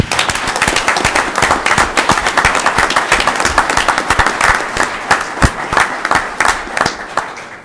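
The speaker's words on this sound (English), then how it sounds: "Let's give Chief another round of applause." An audience at a city council meeting applauds the police chief: a loud, dense, steady burst of many hands clapping that fills the whole stretch without pause.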